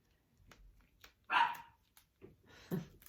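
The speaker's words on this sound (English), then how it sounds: "Sorry for the barking." A dog barks a few times in separate short yaps, moderately close, with quiet pauses between barks.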